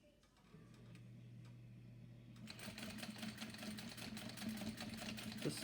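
A sewing machine top stitches a zipper onto a bag gusset panel, starting with a quiet hum, then running into a steady, rapid mechanical stitching rhythm that continues close by.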